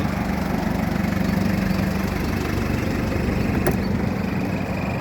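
A Mazda Fighter pickup, model year 2001 (Thai year 2544) with manual gearbox and four-wheel drive, idles with a steady low rumbling engine drone, close and continuous, with a brief faint click partway through.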